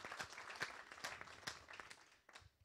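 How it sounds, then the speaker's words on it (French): A small audience at a shopkeepers' testimonial event applauds a storyteller, a soft, somewhat distant patter of clapping with scattered distinct hand strikes that thins out toward the end. "Et alors on peut l'applaudir pour la deuxième histoire."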